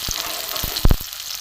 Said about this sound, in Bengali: পেঁয়াজ দেবো দিয়েছি দিয়ে একটু ভেজে নিই সাদা তেল দিয়েছি